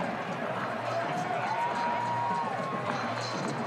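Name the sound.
rugby stadium crowd cheering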